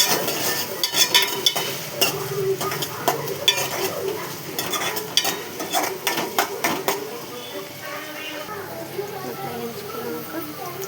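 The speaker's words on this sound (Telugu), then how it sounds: "ఉల్లిపాయ వేసుకోవాలి, కరివేపాకు, ఉల్లిపాయ, పచ్చిమిర్చి, కొంచెం ఈ గోల్డ్ కలర్ రావాలి." Onions, curry leaves and green chillies fry in a pan under repeated stirring, with a sizzling background and the scrape and clatter of a utensil against the pan, while a person talks over it.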